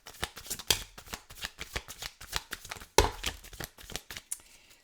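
Tarot cards being shuffled by hand, a quick run of crisp, papery riffles and flutters with a sharper burst midway, close and fairly quiet with no talking.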